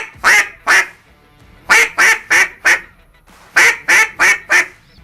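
A duck call imitating hen mallard quacks, as used for duck hunting: loud, nasal quacks in quick bursts, first a pair, then two runs of four, with short pauses between.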